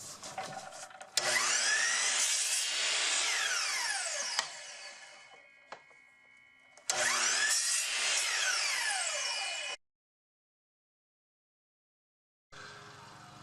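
A power saw trims small corners off leftover scrap wood against a stop block, two loud sustained cuts with the blade whining up and spinning down, separated by a short pause and followed by a brief quieter burst.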